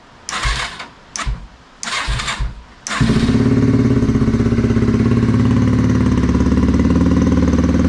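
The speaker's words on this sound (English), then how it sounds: "each bike has its own temperamental way of wanting to be started" Dirt motorcycle being kick-started with choke out and fuel on: several short bursts of effort over the first three seconds, then the engine catches and settles into a loud, steady, close idle running alone.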